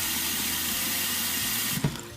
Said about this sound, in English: We're going to fill them with water,